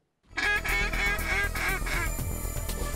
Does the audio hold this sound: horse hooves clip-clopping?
no